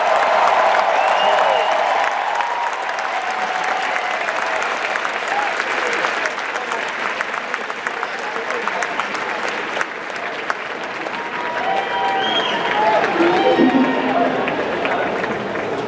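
Loud, sustained applause and cheering from a large convention crowd at the Star Wars Celebration Anaheim 2015 opening ceremony, a dense wash of clapping and whoops running the whole stretch with some shouts rising near the end.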